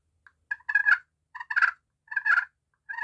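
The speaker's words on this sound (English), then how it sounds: "that's a purr." A friction turkey call is worked to produce a purr, four short rolling, trilled bursts in quick succession, close and clear against silence.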